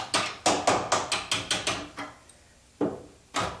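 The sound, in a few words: taking a pre-hung door off its jamb, tapping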